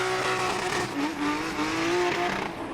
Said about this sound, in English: Low and slow, high into the bank. Smoking the tires.